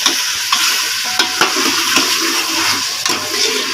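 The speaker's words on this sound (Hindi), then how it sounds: "और अच्छे से हम अदरक और लहसुन के पेस्ट को भून लेंगे" Ginger garlic paste frying with beef in a karahi, a steady loud sizzle with scraping stir strokes and sharp clinks at irregular intervals, close up with no talking.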